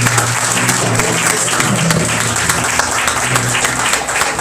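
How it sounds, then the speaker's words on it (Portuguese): A congregation at a Portuguese-language church service claps in a dense, steady roar that runs the whole stretch, close and loud, over a low sustained musical tone. "Dê uma salva de palmas ao Senhor por fazer essa palavra."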